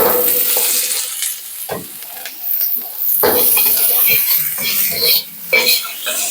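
A new wok being seasoned over high heat sizzles and crackles loudly, with bursts of scraping and stirring and a voice talking over it throughout.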